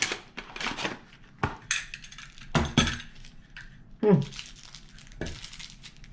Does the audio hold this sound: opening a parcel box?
yes